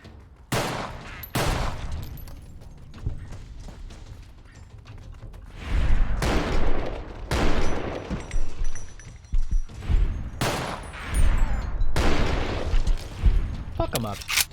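Heavy gunfire in a heavily modded Fallout New Vegas rattles in loud bursts and booming volleys over a noisy battle backdrop, while a person talks throughout.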